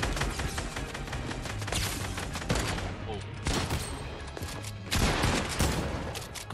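Rapid automatic fire from an AK rifle in Fortnite, dense bursts of shots stacking close and loud for several seconds with brief gaps between volleys.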